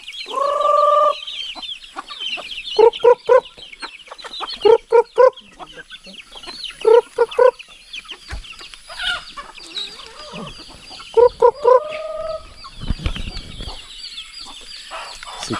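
Hens cluck in repeated short bursts across the clip, with pauses between groups, set against steady background noise and occasional rustling, during feeding in the mountains.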